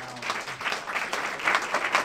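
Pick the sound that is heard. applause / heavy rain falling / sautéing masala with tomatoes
applause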